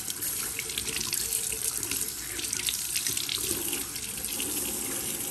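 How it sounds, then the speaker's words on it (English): Tap water runs steadily into a sink as a trumpet mouthpiece is rinsed clean, a continuous close splashing rush with no talking. "wash off all the dirt and the other stuff that might be growing on this poor thing. Wash it off real nice."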